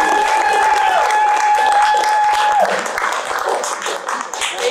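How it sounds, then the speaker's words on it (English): Applause from an improv comedy audience voting for the blue team, with a sustained whistle and cheering over dense clapping that fades slightly toward the end. "applause for the blue team"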